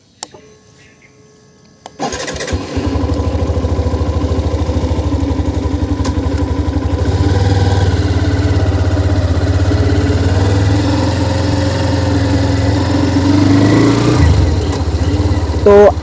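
Hero Xtreme 125R motorcycle engine starting up after a short quiet stretch, then running steadily loud and close for the rest of the ride with a constant low throbbing drone.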